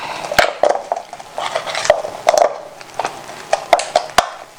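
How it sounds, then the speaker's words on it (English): Black soap ingredients are mixed together in a bowl with a utensil, close scraping and knocking strokes in an uneven rhythm with no talk. "So I go begin to mix all of them together."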